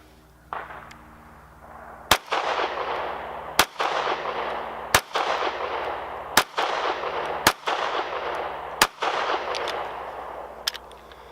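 Gunshots ring out at regular intervals at a shooting range, each a sharp crack with a long echoing tail. There are roughly seven shots in an even rhythm, loud and reverberant, without talking.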